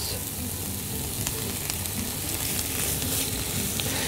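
Potatoes added to a pan with spinach, sizzling steadily and close with faint stirring clicks, a continuous bright frying hiss throughout.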